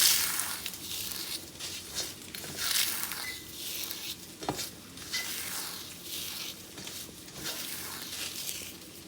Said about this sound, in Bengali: নিম পাতা খালি কড়াইয়ে ভেজে এখন গুঁড়ো করে নিচ্ছি